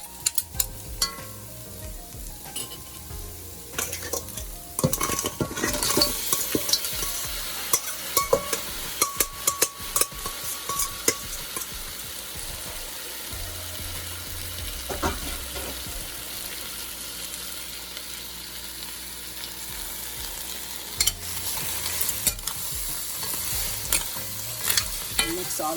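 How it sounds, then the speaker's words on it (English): Crab frying in a pot for Caribbean curry crab, a steady loud sizzle broken by repeated scraping stirs and clatters of the spoon against the pot, with no talk. "we're going to go ahead and add our crab now."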